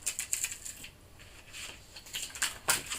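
A foil shield is peeled away, giving scattered crisp crinkles and crackling rustles in short bursts, close and moderately quiet with no voices.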